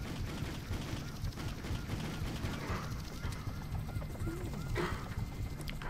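Gunfire in the Just Cause video game, rapid bursts and shots crackling over a constant loud background, with shouting voices mixed in.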